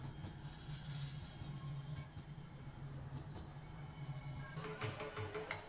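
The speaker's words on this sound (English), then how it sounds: "the train passed by." A train rolls past outside a Chicago Cubs stadium, a steady low rumble of rail cars with a brighter rush of noise building near the end, fairly close and continuous.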